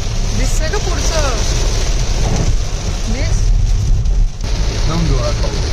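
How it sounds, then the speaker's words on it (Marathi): Heavy rain pounds a car on the Dewas outer road during a long drive, a dense steady downpour drumming on the roof and glass while people talk inside. "एकदम जोरात पाऊस."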